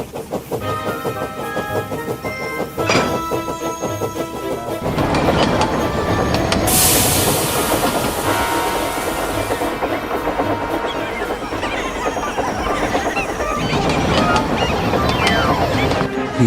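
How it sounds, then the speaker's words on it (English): A train approaching on a railway line where a stalled farm lorry juts over the track, a steady rumbling roar that swells and grows louder, layered with music. "he heard a train approaching"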